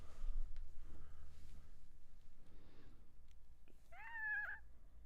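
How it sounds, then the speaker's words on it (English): A cat gives a single short, rising meow near the end, fairly clear over a quiet low background hum, with no talking. "Is there a cat in here?"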